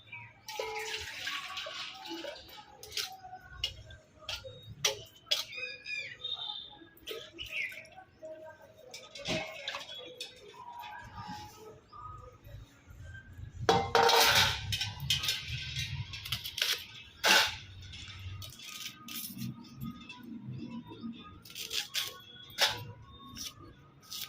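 Hands being washed with water and a cleanser in a kitchen while cooking cucumber tomato curry, with splashing, trickling and dripping sounds in irregular bursts, close by, and a louder surge of running water midway.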